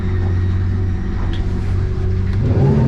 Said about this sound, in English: Now I'm going to give it some gas here out of the whole shot